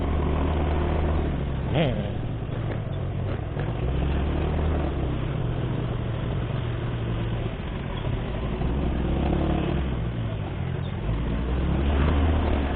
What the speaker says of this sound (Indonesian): Waduh, benar suara motor gua.